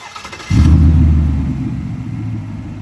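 A 2020 GMC Sierra pickup engine cranks briefly and catches, settling into a loud, deep idle rumble up close that eases slightly after the start, with no talk.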